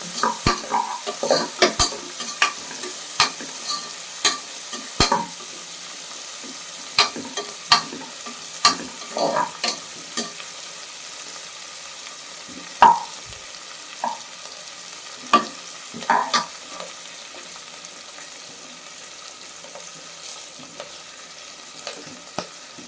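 Chillies sizzle softly in hot oil in a pan for tomato rice while a spoon stirs and scrapes them, giving irregular clinks and rattles over a low, steady frying hiss.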